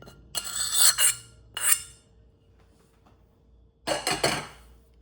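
A pot of tomato onion chutney with tadka being stirred, a spoon scraping and clinking against the metal in three loud close bursts separated by near silence.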